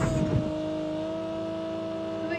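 Motorbike engine in a video game drones steadily at a constant pitch, a sustained moderate hum with a brief louder burst at the start and no talking over it.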